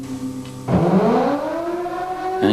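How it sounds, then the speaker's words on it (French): A civil defense siren at the port of Port-Vendres, France, starts up and winds upward in pitch, wailing loudly and steadily with a rising mechanical tone. "Bon, j'actionne la sirène"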